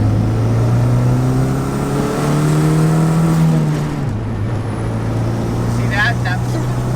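A Chrysler 300 SRT8 engine drones steadily and shifts pitch as it accelerates, with a low rumble throughout, close and fairly loud.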